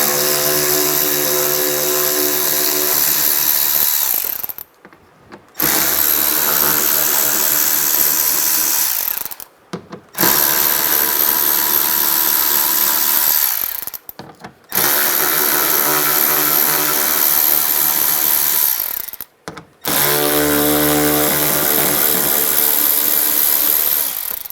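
A power tool with an 8mm socket runs in four long bursts on screws beneath a Dodge Durango's wheel well, each buzzing whir loud and close, separated by short silent pauses.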